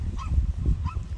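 Geese honk in two short calls, close and moderately loud, over a steady low outdoor rumble while a dog chases after the birds.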